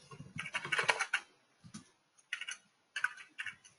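Someone types on a computer keyboard in short clustered bursts of close, crisp key clicks, with brief pauses between the runs and no talking.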